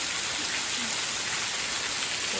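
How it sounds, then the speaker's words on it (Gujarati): Heavy, steady rain pours down in a dense, unbroken hiss that holds at the same loud level throughout, with no voices. "વરસાદ પડે અત્યારે શરૂ થઈ ગયો છે"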